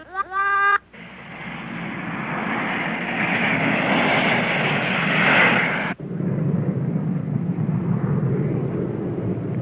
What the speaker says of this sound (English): I wonder if that jet's coming from home.